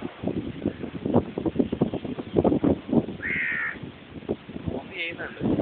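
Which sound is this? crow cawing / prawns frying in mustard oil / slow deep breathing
crow cawing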